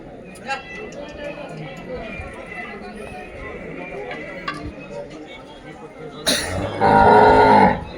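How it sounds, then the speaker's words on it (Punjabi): Dairy cows at a busy cattle market in Dhanaula, Punjab: a loud close moo swells near the end over steady crowd chatter and livestock noise, with people talking throughout. "ਚੰਗੇ ਦੁੱਧ ਵਾਲੀ ਗਾਂ"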